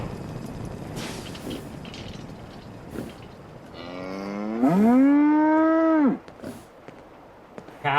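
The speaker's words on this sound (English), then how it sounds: "Cows. Cows!" A cow moos in the Fallout 4 video game, one long, loud, drawn-out low call that swells and then cuts off, over faint background game noise.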